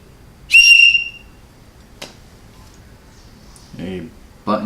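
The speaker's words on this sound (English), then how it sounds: "if we have a whistle, we gotta try it out too" An emergency whistle from a CVS first aid kit gives one loud, shrill blast lasting about half a second, followed by someone talking and a few handling clicks.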